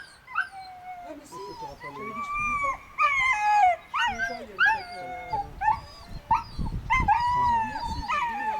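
A female dog whimpers and yips in a series of high, wavering whines and short barks, close by, with irregular pauses between them.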